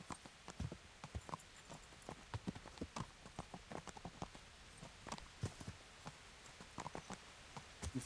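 A horse's hooves clip-clop at a walking pace in Kingdom Come: Deliverance, giving a steady run of fairly quiet, sharp knocks spread over the whole stretch, with no talking.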